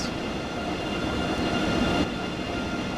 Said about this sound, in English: Oh, your train has arrived.